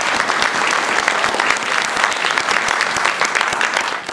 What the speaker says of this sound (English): And I want everyone to give her a round of applause.